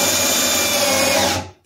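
A power drill bores through stainless steel on a sharpie sailboat daggerboard, a close, loud, steady whine that winds down and stops within under two seconds.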